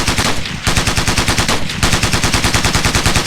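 Rapid automatic gunfire in a Ghost Recon Navy SEALs military video game, loud and close, a dense rhythmic burst with two brief pauses.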